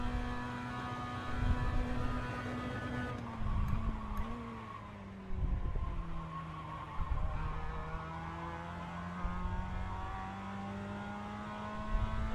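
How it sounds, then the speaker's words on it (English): A Mazda MX-5 race car in iRacing drones at high revs, holding steady on a straight, with a few shifts and dips in pitch and a tyre squeal here and there. "Hit the limiter there on the straight"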